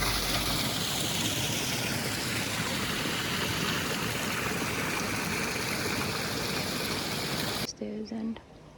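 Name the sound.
hot spring water flowing at Kheer Ganga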